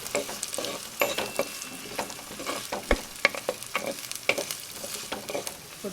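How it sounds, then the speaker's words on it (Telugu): Onion, carrot, beans, grated ginger and garlic frying in a tempering for ragi soup, a steady close sizzle broken by frequent sharp scrapes and clacks of stirring, no talk. "ఉల్లిగడ్డ, క్యారెట్, బీన్స్, కొద్దిగా అల్లం తురుము, వెల్లుల్లి రెమ్మలు అన్నీగా వేసుకోవాలి తాలింపులో"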